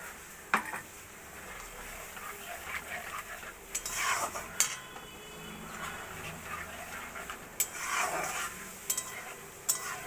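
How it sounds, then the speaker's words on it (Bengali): A mustard paste gravy for fish cooks in a pan and is stirred, with a low simmering bubble under repeated scraping and clinking of a spoon against the pan. "সর্ষে পেস্টটা দিয়ে দেব। বেটে রাখা সর্ষেটা দিয়ে দেব।"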